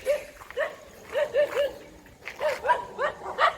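Several dogs barking in a garden area, a run of sharp repeated barks and yips in uneven bursts, fairly close and loud, with no talk over them.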